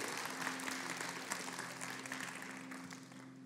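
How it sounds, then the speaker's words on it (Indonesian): An indoor church congregation applauds volunteers, a steady wash of many hands clapping at moderate loudness for a few seconds, with a faint sustained tone underneath. "Tepuk tangan ya buat all volunteer"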